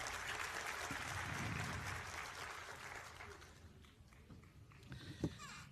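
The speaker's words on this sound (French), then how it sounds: "Je pensais qu'on aurait pu applaudir ça." Applause from a church congregation during a sermon, a fairly faint clatter of clapping that swells briefly and then thins out, with a few stray claps and small noises at the tail.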